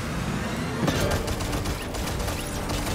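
Dense, continuous rumbling anti-aircraft cannon fire in Fortnite, heavy cannon blasts blending into a thick roar with a sharper burst near the start.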